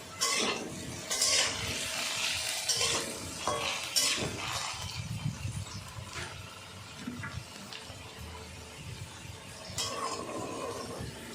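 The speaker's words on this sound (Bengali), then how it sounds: "আলুগুলোও ভাজা হয়ে গেছে আলুগুলো তুলে নেব" Potatoes frying in oil for a jackfruit curry, with an uneven sizzle broken by clinks and scrapes of a utensil against the pan, moderately close with no talk.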